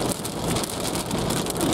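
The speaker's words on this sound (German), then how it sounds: "Ich bin gerade auf der A8 mitten im Gewitter." Heavy thunderstorm rain, mixed with hail, drumming on a car driving on the A8 motorway near Aichelberg: a dense, loud, continuous patter that fills the whole moment without any voices.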